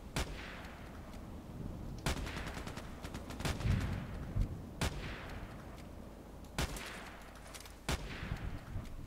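Video game gunshots ring out as isolated sharp cracks, about five or six spaced several seconds apart, each trailing off with a ringing decay over a faint background hum.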